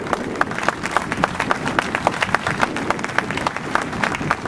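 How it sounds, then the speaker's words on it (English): A room of people clapping at a Veterans Day event, with distinct, rhythmic individual claps audible through the applause, moderately loud and steady. "sometimes he deserves a round of applause"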